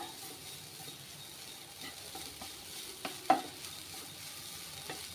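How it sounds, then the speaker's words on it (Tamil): Grated coconut dry-roasting in a pan, soft scraping stir strokes and a faint low crackle, quiet and close, with a couple of sharper clinks of the spatula midway. "தேங்காய் இதில் லைட்டாக வறுத்து எடுத்துக்கலாம் அது ஈரப்பதம் போகிற வரைக்கும் வறுத்து எடுத்துக்கோங்க"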